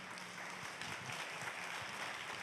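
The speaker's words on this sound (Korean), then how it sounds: "박수로 맞이해 주십시오." Faint, distant audience applause at a Christian education leadership conference, a steady wash of many hands clapping for the entire short stretch.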